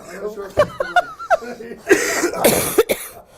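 Several sharp coughs burst out after some light chuckling, close and loud, with brief pauses between them.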